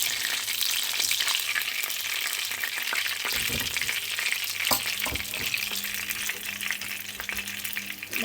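Chicken nuggets fry in a pan with a steady, dense sizzle of hot oil, close and continuous throughout, with occasional stirring and scraping knocks.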